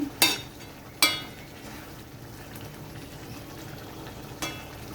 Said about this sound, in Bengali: মাছগুলো গ্রেভির সঙ্গে ভালো করে মিশিয়ে নিচ্ছি এদিকে ভাতও ফুটছে